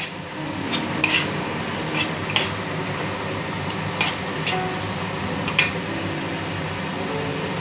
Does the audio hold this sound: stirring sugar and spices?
yes